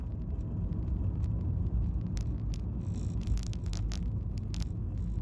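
Cars driving along a priority bus route road in Trinidad, a steady low rumble of passing traffic with occasional brief higher clicks and hiss, continuous throughout without any voices.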